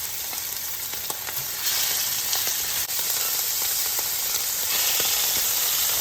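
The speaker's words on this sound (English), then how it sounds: "So first I want to start with sauteing the shrimp first." Shrimp sautéing in a pan for shrimp creole, a loud, steady close sizzle and crackle with a few small pops, rising slightly partway through, no voices.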